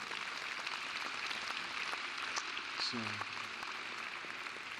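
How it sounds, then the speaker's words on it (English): Audience applause at a Hampton University convocation, a steady wash of clapping from a large crowd heard at a distance, with a brief spoken word over it. "now the clapping is really for the institution"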